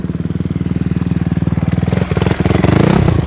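A KTM 250 motocross bike running on a dirt track, its engine loud and close with a rapid pulsing chug that builds and revs harder toward the end, with some clatter.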